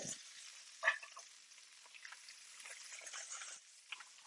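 Strip loin steak frying in butter in a pan gives a faint, crackly sizzle with a sharp spatter near the start and scattered small pops, heard alone.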